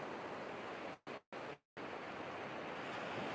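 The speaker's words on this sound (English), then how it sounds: "I'll go a little bit closer now towards the water, and just that you can listen to the waves." Waves washing steadily onto a beach at Rabbit Island, New Zealand, a continuous close surf hiss broken by two brief dropouts.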